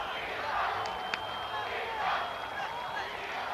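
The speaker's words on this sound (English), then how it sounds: "you can hear the crowd in the Los Angeles Coliseum chanting Dida, Dida" A large stadium crowd at the Los Angeles Coliseum during a Brazil vs Canada football match in 1996 roars and chants, a distant, steady, washy din with a few sharp cries.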